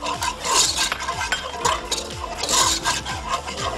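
Béchamel base of butter and powdered milk being stirred in a pan, with a spoon scraping and rubbing against the metal in a steady back-and-forth rhythm and light clinks, close up with no talking.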